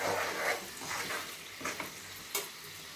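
Chili powder sautéing in a pan of oil for a raw dates pickle, a steady close sizzle broken by a few soft scraping stirs, heard alone without voices.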